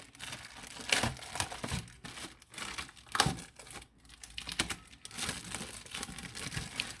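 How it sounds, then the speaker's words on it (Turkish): Plastic packaging being torn open from a children's magazine, close crinkling and crackling in irregular bursts with brief pauses between handfuls, fairly quiet and with no talking. "hep birlikte hadi bunun paketini açalım"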